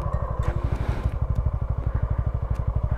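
Suzuki V-Strom 250 motorcycle riding, its engine pulsing in a rapid, steady rhythm close by, with faint clatter and road noise around it.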